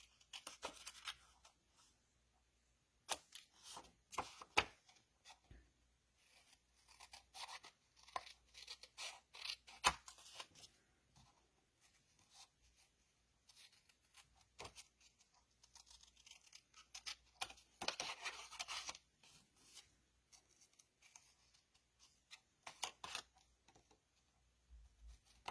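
Scissors snip through paper in short, irregular bursts of crisp cutting and rustling, close and fairly quiet, with pauses between as the blades work carefully around corners.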